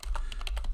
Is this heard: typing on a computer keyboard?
yes